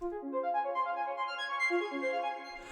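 A quick, busy synth arpeggio runs up and down in rapid notes for a few seconds, clean and upfront with no talking.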